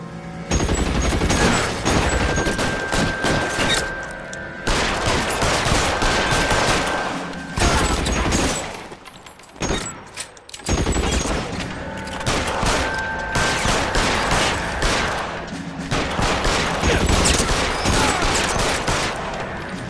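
Gunfire in the video game L.A. Noire comes as loud, dense bursts of rapid shots and fusillades, broken by a few short lulls, with sustained heavy firing through most of the stretch.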